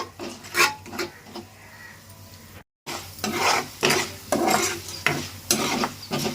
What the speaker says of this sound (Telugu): చూస్తున్నారు కదండి చక్కగా అయితే వేగుతున్నాయి